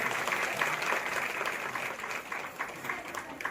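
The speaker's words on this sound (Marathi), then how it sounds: "अर्चना सन्मान करूया टाळ्या वाजूया" Applause from women gathered at a Haldi-Kunku ceremony held for Makar Sankranti, a steady, dense clapping that fills the room continuously for several seconds, with murmuring voices mixed underneath.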